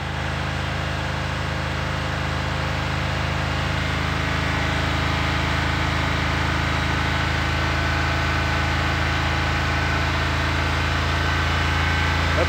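A hydrogen-powered V8 internal combustion engine held at high revs around 3200 RPM on a test run, a loud, steady droning roar with no change in pitch throughout.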